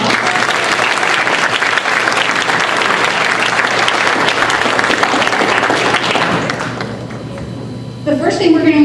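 Audience applause at an Academic Decathlon awards ceremony, loud sustained clapping for about seven seconds that tapers off, followed by a brief voice speaking.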